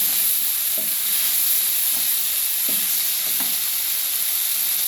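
Ridge gourd and coconut are stirred in a hot pan, a steady loud sizzle and hiss with several soft scraping strokes of the spoon at irregular intervals; no voices.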